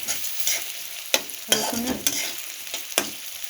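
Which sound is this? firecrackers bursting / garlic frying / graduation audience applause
garlic frying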